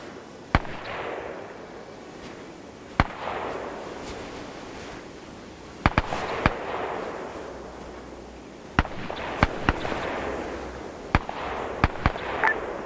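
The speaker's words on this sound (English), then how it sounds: "Are they actually shooting at us and suppressing us?" Sharp gunshots in a World War II paratrooper shooter game, a dozen or so sudden cracks in scattered bursts, each trailing into a rolling echo over low battlefield ambience, fairly loud with no talk.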